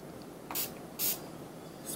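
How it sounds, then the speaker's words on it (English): Two short hissing bursts from a spray bottle, a pause between them and a third fainter spritz near the end, close and crisp over a quiet room. "Spray it twice."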